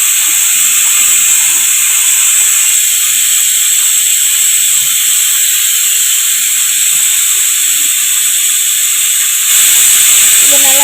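Fenugreek seeds sizzle in hot oil for a temple-style tamarind gravy, giving a loud, steady, close hiss that runs almost unbroken before cutting off near the end.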